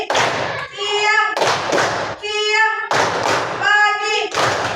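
A classroom of students performs a clapping game, their sharp claps landing in repeated rhythmic bursts alternating with voices chanting in unison.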